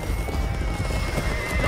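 Horse neighing and hoofbeats in the medieval combat game Chivalry 2, with a continuous clatter of hooves and a whinny over steady battlefield noise.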